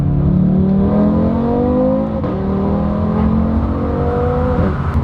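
A tuned Audi RS3 8Y accelerating hard, its turbocharged engine note rising steadily in pitch, loud and close with a continuous throaty roar and a brief dip around a gear shift.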